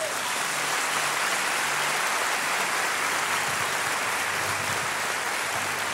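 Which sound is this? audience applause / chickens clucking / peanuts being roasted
audience applause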